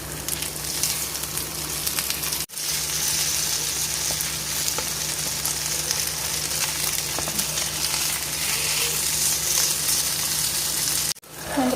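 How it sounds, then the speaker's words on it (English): Veggie burger patties frying in a little oil in a pan give a loud, continuous close sizzle, broken by two brief dropouts, with no talking. "When the patties are roasted nice and brown on both the sides"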